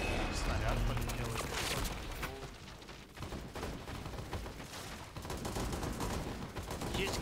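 Gunfire in the CROWZ battle royale shooter, sharp shots scattered through a dense, noisy game mix with speech over it, moderately loud and steady throughout.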